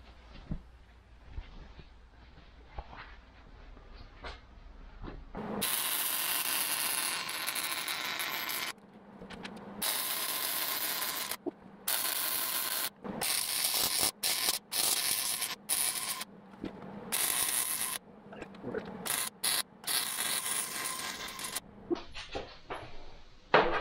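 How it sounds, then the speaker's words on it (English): A ratchet unbolts the seat of a Jeep CJ2A flat fender, giving bursts of loud, harsh clicking and rasping broken by short pauses after a quieter opening, close to the listener and without talk. "then I'll unbolt it and take the seat out of the way"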